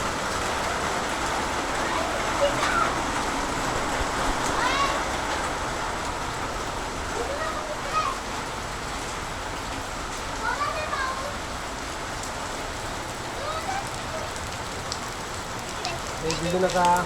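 Heavy pre-monsoon rain in the Konkan region pours steadily across the whole stretch, a dense, continuous hiss with occasional faint voices and chirps mixed in the background.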